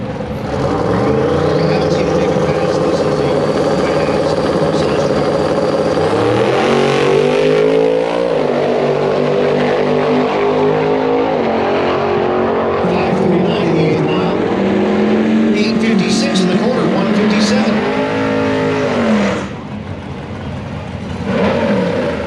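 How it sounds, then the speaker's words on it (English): A drag racing truck makes a loud pass down the strip at a race week event, its engine roaring steadily and rising through gear changes before easing off, while an announcer talks over it. "Jerome Courtney, the strictly business truck"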